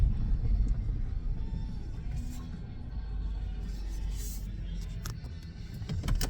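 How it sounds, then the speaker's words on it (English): A car driving on the way to a hunting spot, heard from inside as a steady low engine and road rumble that holds evenly throughout with faint rattles on top and no talk. "right now driving up to my hunting spot."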